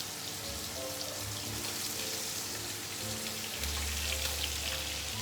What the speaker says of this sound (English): Let's baste it.